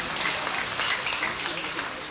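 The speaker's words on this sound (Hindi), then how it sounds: "क्या तालियां बजी है, देखो" Audience clapping at a large Hindi poetry gathering, a kavi sammelan at Janta Inter College in Rudrapur. Dense, even applause from many hands carries steadily for a couple of seconds.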